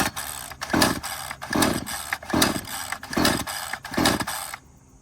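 A weed eater string trimmer being started in the morning: a small engine sputters in about six rhythmic, surging bursts, loud and close, before cutting off.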